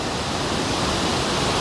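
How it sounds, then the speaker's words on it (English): Balls Falls waterfall in the Niagara area roars as a loud, steady, close wash of falling water with no break. "You really feel the vibrations and the tremor from this waterfall."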